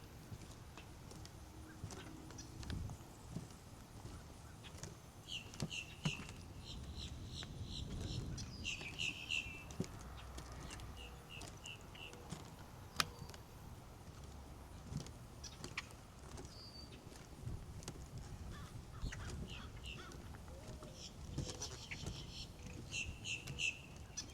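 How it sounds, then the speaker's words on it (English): Birds chirp and call faintly in the distance over a quiet outdoor hum at a lakefront estate in Clermont, Florida, with short repeated high notes scattered throughout. "You can hear the birds."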